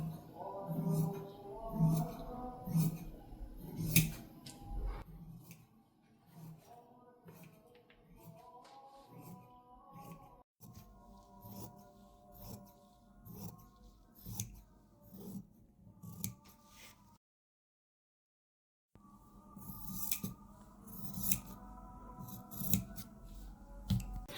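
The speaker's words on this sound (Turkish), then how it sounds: "Yine böyle kesiyorum." Scissors cutting fabric for a ruffled collar and cuffs, close crisp snips in quick rhythmic runs with short pauses and a brief silent gap, while someone talks intermittently.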